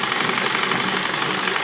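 Electric sewing machine running steadily, stitching the joined front and back pieces of a side-dori Naira frock along the fitting seam; a continuous close whirring hum with no pauses and no talking.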